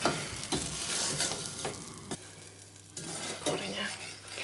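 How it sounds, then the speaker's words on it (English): A spoon stirs butter and light brown sugar in a pot as the butter melts, scraping in irregular strokes with a soft sizzle and occasional clinks of the spoon against the pan, close and steady with no talking. "So keep stirring this while the butter is melting to stop the sugar from sticking to the side"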